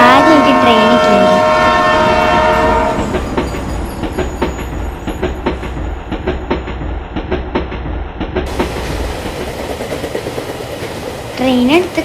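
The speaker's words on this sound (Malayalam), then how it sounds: "ട്രെയിൻ എടുത്തേക്ക് വന്നപ്പോൾ നല്ലൊരു ആകാംക്ഷ ഉണ്ടായിരുന്നു കേട്ടോ ട്രെയിനിൽ കയറാൻ" A train pulls into a station. A horn sounds near the start, followed by a steady rumble and rhythmic wheel clatter over the rails, with people talking under the noise.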